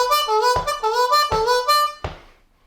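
On a C harmonica, a lick moves through bent and sliding notes in a quick rhythmic phrase, close and clear, with no talking, finishing on a short accented note that rings out.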